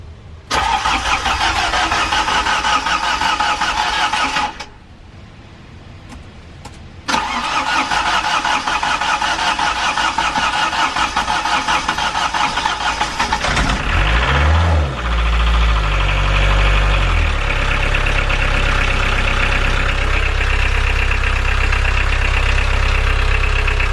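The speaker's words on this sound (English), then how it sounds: "I'm going to trust the old Perkins engine and we're going to see how we go." An old Perkins diesel engine on a narrowboat whirs on preheat and starter, cuts briefly, then cranks, catches with low thumping knocks and settles into a loud, steady, slightly rattling idle close by.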